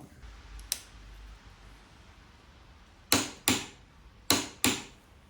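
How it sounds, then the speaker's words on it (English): Torque wrench tightening the clip-on securing nut on a BMW S1000 RR motorcycle: one faint click, then two pairs of sharp, loud clicks close by in a quiet room. "I'm gonna torque it to 44 foot-pound or 60 Newton meter"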